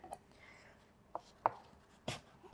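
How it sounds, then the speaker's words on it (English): Knife chopping food on a board with a rocking motion, a few faint, scattered knocks and taps in an otherwise quiet kitchen. "just chopping, using my rocking motion with my knife"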